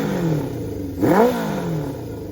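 A Honda CB550 motorcycle engine with a 4-into-1 exhaust idles with a low burble, then revs up sharply once and drops back to idle, close and loud.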